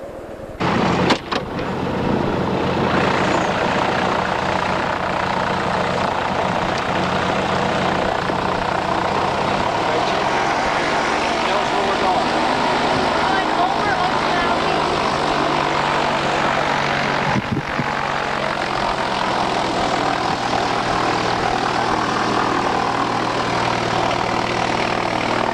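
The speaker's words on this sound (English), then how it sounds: "We're taking off at Ocean Isle Beach in this rattle-trap plane" A small, rattly propeller plane takes off at Ocean Isle Beach, its engine droning loud and close in a steady buzz that shifts pitch partway through as it climbs, with rattling from the airframe.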